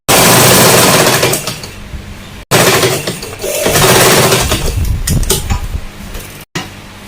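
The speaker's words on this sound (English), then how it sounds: "I'm now sewing it the back side now" Sewing machine stitching the back seam of a pencil skirt, running in loud rapid bursts with two brief stops, close and alone without talk.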